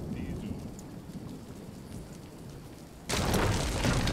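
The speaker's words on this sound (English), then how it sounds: "Oh no! My houses! That rain." Rain falls in a thunderstorm in the village-building video game Kainga. Steady rain patters for about three seconds, then a sudden loud rumble of thunder bursts in and the storm roars louder.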